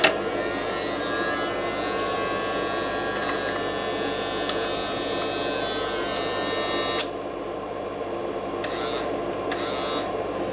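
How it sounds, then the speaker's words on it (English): A small motor inside a mystery retro system whirs steadily as it tries to open a stubborn lid. The close, continuous hum is punctuated by a few faint clicks, and no one speaks. "The motor is turning, but it doesn't open."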